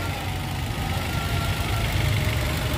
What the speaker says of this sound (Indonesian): Untuk mesinnya suaranya ini halus banget, kayak mobil nggak suara.